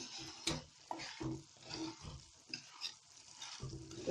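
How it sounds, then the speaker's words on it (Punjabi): Jaggery melting in a pan over a low flame, stirred continuously with a spoon: soft scraping and faint bubbling with intermittent knocks, close and fairly quiet. "ਤੇ ਗੁੜ ਨੂੰ ਲਗਾਤਾਰ ਹਿਲਾਉਂਦੇ ਰਹਾਂਗੇ ਤਾਂ ਕਿ ਇਹ ਚੰਗੀ ਤਰ੍ਹਾਂ ਪਿਘਲ ਜਾਏ।"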